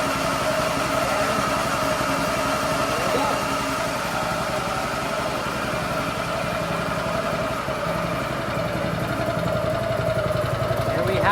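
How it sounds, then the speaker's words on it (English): A small petrol engine on a California Trimmer Catalyst 20 reel mower runs at a steady idle just after its first start, giving a continuous, even, mid-pitched drone from nearby with no breaks for the whole stretch. "This engine sounds absolutely fantastic."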